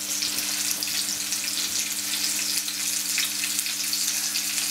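White pudding crumbled in beside onions frying in a pan gives a steady, close sizzle that holds unbroken, with no talking over it.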